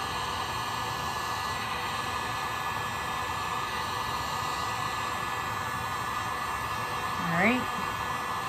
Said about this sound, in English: So I need to heat it up, constantly moving my heat gun